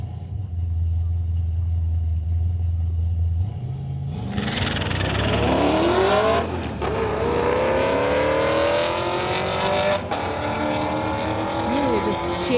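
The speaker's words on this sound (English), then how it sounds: "Next up is Ken Ritchie, the 85 Blazer, going against Julia Fisher in her 2018 Chevy Camaro" A 1985 Chevy Blazer and a 2018 Chevy Camaro drag racing at a street-legal night event: low idle, then loud roaring launches with rising engine sweeps and gear shifts, an announcer talking over the engines throughout.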